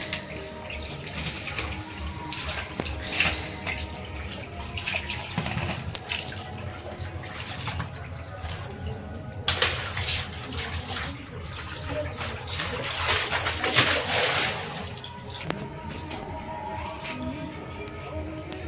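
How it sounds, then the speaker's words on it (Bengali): Potatoes washed by hand in a large amount of water: continuous splashing and sloshing with bursts of running water and occasional drips, close and fairly loud, and a few voices talk at times over the washing. "এখন আলুগুলো ভালো করে অনেকটা জলের মধ্যে ভালো করে ধোয়া হচ্ছে"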